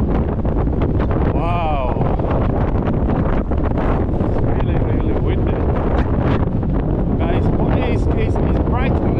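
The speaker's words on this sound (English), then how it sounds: "It's absolutely crazily windy out there, man." Strong wind on Blackpool promenade roars continuously and buffets the microphone in loud, unbroken gusts, with one brief exclaiming voice.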